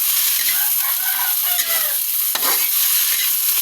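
Adobong tarukog, a native rooster adobo with garlic and onion, is stirred in a hot pan. A loud, dense sizzle runs throughout, with a brief scrape of the utensil midway and no talking.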